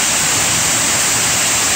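Upper Avery Creek Falls, a waterfall about 25 to 30 feet high with deadfall around its base in Pisgah National Forest, North Carolina, roars as a steady, loud, broadband rush of falling water, close by and with no voices.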